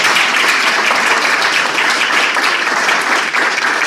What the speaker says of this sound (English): And a round of applause for the fire department.